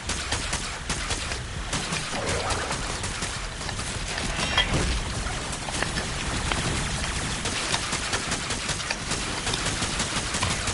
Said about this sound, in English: I'll bring out Corrupted Bombard as usual to see what it actually can do